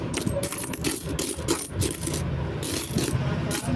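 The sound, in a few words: Indian coins clinking while being sorted and counted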